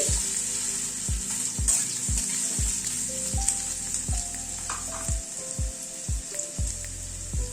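Boiled potatoes frying in oil in a pan, a steady close sizzle with regular scraping strokes of a spatula roughly every half second throughout, no voices.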